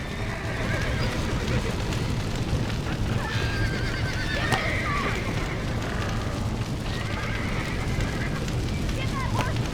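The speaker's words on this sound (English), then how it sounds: "Get that horse back! Get it moving!" In Red Dead Redemption, a horse whinnies over a steady noisy rumble of galloping hooves and action, with shouting voices mixed into the busy, continuous din.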